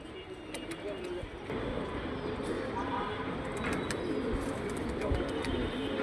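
Pigeon cooing in the open during an attempt to catch the bird, soft repeated coos under steady outdoor noise and a background voice.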